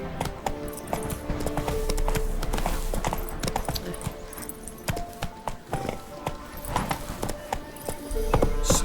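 A horse's hooves clip-clop in a steady running rhythm in the video game The Witcher 3: Wild Hunt, with a low rumble beneath. Game effects are layered on top and a faint voice is heard in the background.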